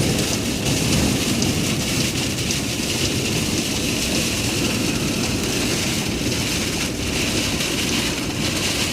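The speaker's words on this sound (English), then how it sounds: "sometimes when the rain comes down so fast on the road you can't see what's going on" Heavy rain pours steadily onto a road during a drive, a dense, loud, continuous roar of water with low rumbling underneath and no voices.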